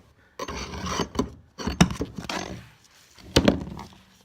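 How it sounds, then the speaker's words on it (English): Flathead screwdriver prying up staples from carpet while ripping it up, heard as several bursts of scraping, rasping metal-on-wood friction with short pauses and a sharp thunk near the end, close and fairly loud. "I've been using these flathead screwdrivers to lift up the staples."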